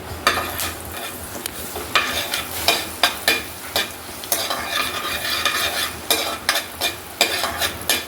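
Cardamom, cloves and shahjeera fry in oil for butter paneer masala, with a constant sizzle broken by repeated scraping and stirring strokes of a spatula in the pan, close and fairly loud.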